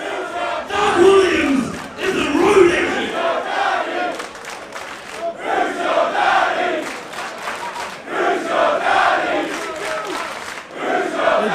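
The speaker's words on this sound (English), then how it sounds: "This crowd getting under the skin of Travis Banks." A wrestling show audience shouts and chants loudly and continuously, with rising and falling waves of voices jeering a wrestler throughout.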